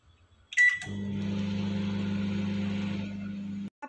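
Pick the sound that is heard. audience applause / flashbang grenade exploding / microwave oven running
microwave oven running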